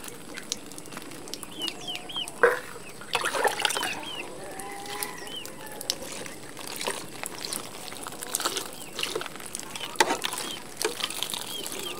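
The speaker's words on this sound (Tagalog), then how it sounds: "Itong na lang ang ipandidilig ko dito." A bottle pours water over potted plants on a small farm, a soft trickle and splash with chickens clucking and birds calling close by.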